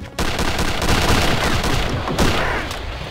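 Rapid automatic gunfire in Return to Castle Wolfenstein, dense loud bursts of shots rattling continuously with a couple of sharper heavier blasts, close and harsh.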